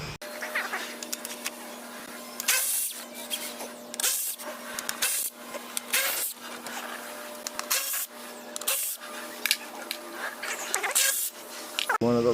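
An electric ratchet buzzes in repeated short bursts while 8mm bolts come off a cover on a 2014 Mercedes S550 W222 during starter replacement. A steady hum runs underneath the bursts.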